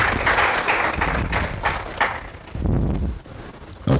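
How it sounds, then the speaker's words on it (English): Audience applause for a panelist at a World Consumer Rights Day event, scattered hand claps with a few sharper, louder claps and some thuds, thinning out in the middle of the stretch and picking up again toward the end. "Let's give a big round of applause to Simonza"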